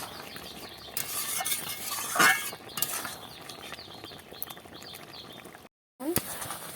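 Loti posto gravy bubbles gently in a pan while a spoon stirs and scrapes through it, with soft clinks and sizzling close by and a brief silent gap near the end.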